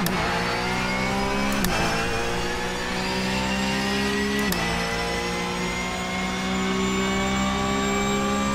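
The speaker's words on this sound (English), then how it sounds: "You're hitting the rev limiter again." A Porsche Cup race car in iRacing at Circuit de la Sarthe, its engine droning loud and steady at high revs and bouncing off the rev limiter, with brief gear-shift breaks in the tone.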